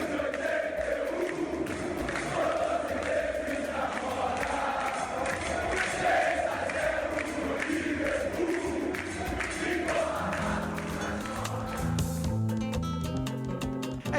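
Flamengo football fans cheer and chant as a big crowd, a continuous roar of massed voices at moderate distance and fairly faint, with rhythmic chanting rising near the end.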